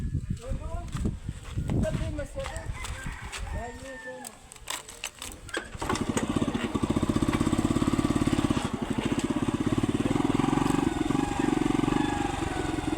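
Voices talk at first, then a motorcycle engine starts and runs with a steady, buzzing drone that continues at close range under occasional speech.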